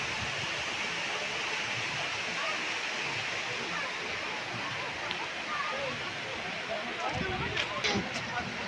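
Water rushing out of the Baranti dam, a steady, dense roar of spilling water that fills the scene evenly, with faint people nearby.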